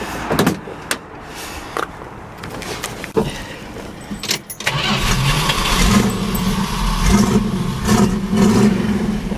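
Keys jangle and a door clunks before a 1970 Dodge Challenger's 340 V8 engine cranks and catches around the midpoint, then settles into a steady, rumbling idle.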